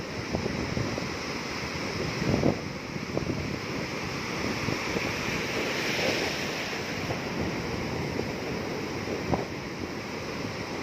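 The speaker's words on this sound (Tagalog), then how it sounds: "waiting for a big wave" Ocean waves breaking and washing onto a beach in New South Wales, Australia, a steady broad roar of surf with wind buffeting the microphone, continuous and fairly loud with no talk.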